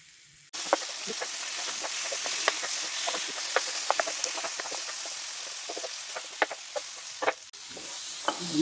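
Vegetables for prawn skewers sauté in a hot pan, a dense sizzle that starts abruptly and holds steady, broken by repeated sharp scraping stirs and a brief drop near the end.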